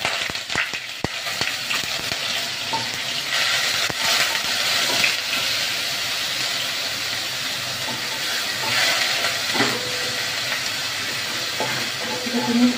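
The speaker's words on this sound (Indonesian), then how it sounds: "Kita tumiskan sehingga kekeringan." Blended shallots and garlic sautéing in hot oil in a Dessini pot, a steady dense sizzle and crackle throughout with a few faint utensil knocks.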